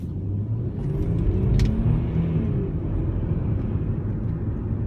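A 2004 Audi A6 cruises along a road, its engine and tyre noise forming a steady low rumble heard from inside the cabin, with no talk.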